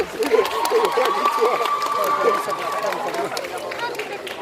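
Audience at the JapaNantes cosplay contest in Nantes applauds loudly, dense clapping with crowd cheers and a raised voice carrying over it throughout.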